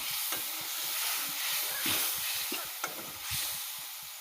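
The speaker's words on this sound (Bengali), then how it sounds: "এবার একটু নেড়ে নেব।" Masala in a pan is stirred with a spoon, giving quiet repeated scrapes and soft knocks over a low, steady sizzle.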